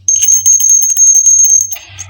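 A small hand bell rings continuously and loudly close by, a bright sustained jingle lasting well over a second before it cuts off and a brief rattle follows.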